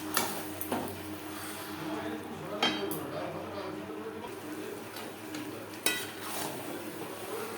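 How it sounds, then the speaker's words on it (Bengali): Banana flower, chickpeas and potatoes with spices are stirred in a pan, with intermittent clinks and scrapes of a spoon against metal over a low background. "আলু ও মশলার সাথে মোচা ও ছোলা বেশ ভালো করে মিক্সড করে দেবো"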